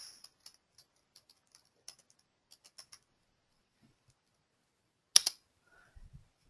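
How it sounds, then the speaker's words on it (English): Sparse, light key taps on a computer keyboard click at an irregular pace in a quiet room, followed by a brief louder clatter. "I am typing the email address again."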